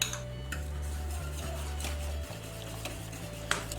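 Custard mixture for bread pudding being stirred in a pot on the stove, a steady low hum beneath soft scraping and light clinks of the spoon against the pot, close and fairly quiet.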